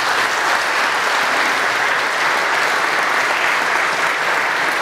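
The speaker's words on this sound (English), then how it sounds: "Our applause is very well deserved." Applause fills Flagler Memorial Chapel at a Millbrook School alumni ceremony, a dense, even wash of many hands clapping throughout, with no talk breaking through.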